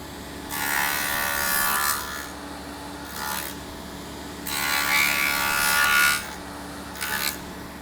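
A hand saw cuts the cheeks of a wooden tenon for an Arts & Crafts settee, with rasping strokes in four distinct bursts separated by short pauses, close and clear with no talking.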